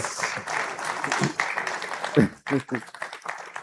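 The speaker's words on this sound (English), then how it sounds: "Yes, go ahead and clap." Audience applause at a Ghana-UK investment summit, broad clapping from a crowd mixed with voices and a speaker's amplified talk, moderately loud and continuous.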